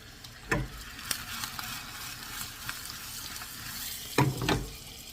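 Hamburger meat sears on a griddle for chopped cheese sliders, a steady low sizzle with a couple of louder scraping stirs near the start and end, close by with no talking.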